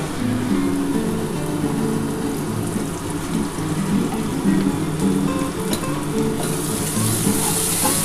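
Ghee sizzles steadily in a pan for a duck egg korma, giving a constant close, bright frying hiss with faint stirring scrapes and no talking.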